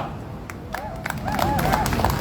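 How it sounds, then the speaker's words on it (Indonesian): A crowd claps at an anniversary ceremony for the Forest Police, scattered claps thickening into fuller applause, with voices and a few tonal calls mixed in. "kita berikan tepuk tangan yang meriah untuk YL Polisi Keutanan"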